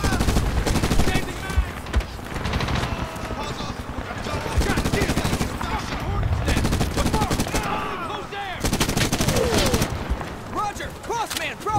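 Near-continuous gunfire in the Medal of Honor 2010 video game, rapid automatic bursts and scattered shots crackling throughout, with voices talking under the firefight.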